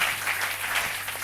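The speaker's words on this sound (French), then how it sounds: "Applaudissons le Seigneur Jésus-Christ." A church congregation applauding during a service, a brief steady patter of many hands clapping at moderate volume over a faint low hum.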